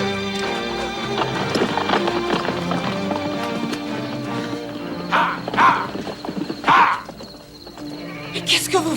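Horses run with a rapid clip-clop of hooves and loud whinnies, neighing bursts rising near the end, with voices mixed into the scene.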